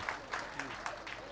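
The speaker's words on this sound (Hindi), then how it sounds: "आप सभी मैं अनुरोध करता हूँ एक जोरदार ताली" Audience clapping at a wedding ceremony, a short steady burst of applause from a crowd, moderately loud and continuous with a voice faintly underneath.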